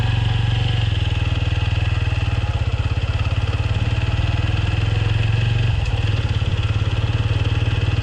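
A TVS Apache RTR 160 4V motorcycle engine runs steadily and close by with a constant low throbbing note, a brief dip and shift near the end as a gear is changed, with no talking.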